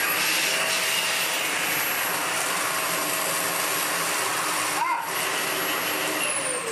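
A Dyson DC15 upright vacuum cleaner runs steadily for the whole stretch, a loud, continuous motor whine and airflow hiss with a brief dip near the end as the machine is tilted back.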